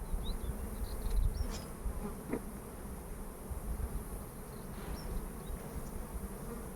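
Honeybees buzz steadily around an open hive during a colony inspection, a dense low drone that continues throughout with a few louder passes close by.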